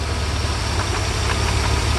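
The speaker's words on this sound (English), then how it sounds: "Now the engine shakes." A 1991 Mercedes 300E engine runs rough with a stuck fuel injector, giving a loud, steady, close rumble with an uneven knocking throb throughout and no talking.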